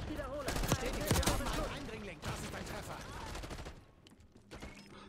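Rapid gunfire from the video game Call of Duty Black Ops 6 crackles in dense bursts through the first half, then thins to scattered shots, with game effects and a voice mixed in underneath.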